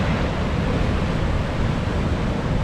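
Atlantic Ocean waves break and wash over jagged rocks at Hartland Quay, a loud, continuous roar of surf with wind, steady and close throughout.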